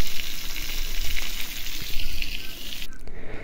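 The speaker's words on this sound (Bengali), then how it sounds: "তো দেখুন আমি এখন মাছ ভাজতেছি।" Fish pieces, flattened and made fairly large, fry in a pan with a loud, steady sizzle that keeps going for about three seconds before dropping off abruptly near the end. No one talks over it.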